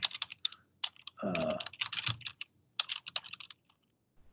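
Quick, close clicks of typing on a computer keyboard while logging in to a test site, in irregular bursts of keystrokes with short pauses and a soft voice briefly underneath.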